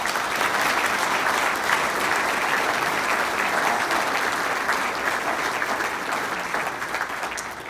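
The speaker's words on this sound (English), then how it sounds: "Yes, clap for that." A large crowd applauds warmly at a city address, a full, even wash of clapping that holds steady and begins to thin out toward the end.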